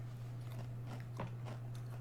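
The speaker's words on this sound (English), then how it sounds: "And that's a decent crunch." Crunching on a Crispers snack, a few close, crisp bites and chews in quick succession over a steady low hum, with no talking.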